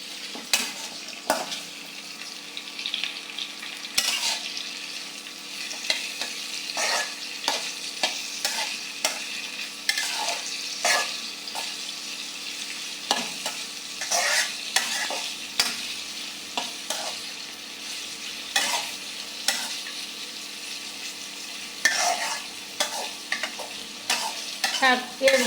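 Onions frying in a pan for a greens-stalk curry, with steady sizzling under repeated scraping stir strokes at close range; no talking.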